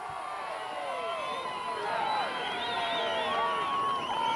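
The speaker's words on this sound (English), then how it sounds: "The Golden Eagle crowd behind us is loud" A loud home crowd cheers and hollers in the stands at a high school boys' CIF soccer match at Merrill Douglas Stadium, a continuous wash of overlapping voices and whoops with no break.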